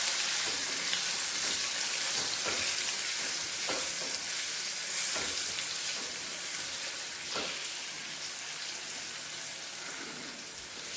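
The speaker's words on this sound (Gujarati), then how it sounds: "ત્યારબાદ તેમાં આપણે ભીંડો નાખીશું અને ભીંડાને થોડા ધીમા ગેસે સાતળીશું।" Okra sautéing in a pan over a low flame gives a steady, close sizzle with light crackles and occasional stirring scrapes, with no voices.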